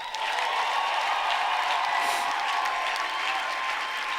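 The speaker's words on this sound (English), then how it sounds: "The way you are clapping on that side, you are suspects." An audience claps steadily and fairly loudly for several seconds at a gathering, with no voice over it.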